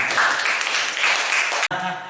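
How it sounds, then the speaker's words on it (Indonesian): A classroom audience applauding steadily, a dense wash of clapping that cuts off abruptly near the end, followed by a brief bit of quieter sound. "tepuk tangan dong"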